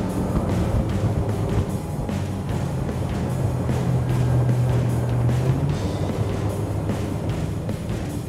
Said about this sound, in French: C'est le hors-bord le plus léger qu'ils aient créé.